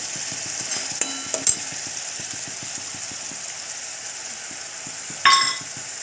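Tomato puree and paste fry in oil with ginger-garlic paste in a pan, giving a steady soft sizzle with a few sharp clinks of a utensil against the pan.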